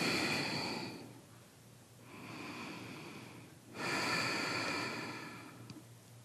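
Slow, deep breathing during a yoga exercise for beginners, with three long breath cycles of broad airy inhales and exhales over a steady low hum, close and moderately loud with no talk.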